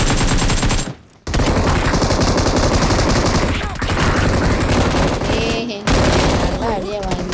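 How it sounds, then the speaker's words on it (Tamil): Rapid automatic gunfire from the BGMI (PUBG Mobile) battle royale game, loud and dense bursts filling most of the stretch, broken by a brief gap near the first second and another shortly before the end. "வேணும்னே சுடுறேன்."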